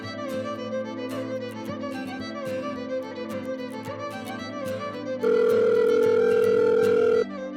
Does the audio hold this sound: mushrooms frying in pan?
no